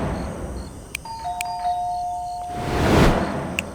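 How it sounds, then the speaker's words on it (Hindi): A doorbell chimes with clear ringing tones in a quiet room, followed by a soft rustling swell. "सबसे पहले तो मैंने डोरबेल बजाई थी।"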